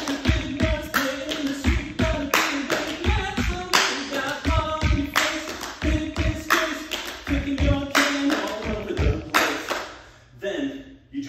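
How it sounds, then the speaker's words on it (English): Stomp-stomp-clap rhythm of a full cast performing choreography, steady repeating percussive hits with music underneath, pausing briefly near the end. "Same thing, stomp, stomp, clap."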